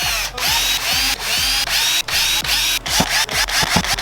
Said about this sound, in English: I'm going to drill my holes.